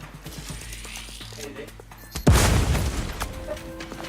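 A grenade explosion in The Outer Worlds 2 video game, a sudden loud boom that bursts out mid-clip and rumbles on over ongoing game sounds and voices.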